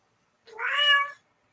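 A single clear cat meow, rising then falling, close and fairly loud against an otherwise silent background.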